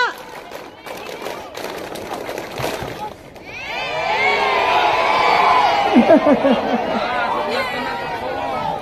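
A group of scouts at a Jamran 2024 gathering in Cibugeul, Sumedang, claps the patterned tepuk pramuka in quick, dense rhythmic bursts, then breaks into loud shouting and cheering voices.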